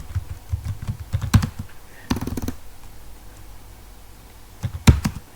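Keystrokes on a computer keyboard while a letter is typed in MS Word, bursts of quick clicks and rapid clattering runs separated by short pauses.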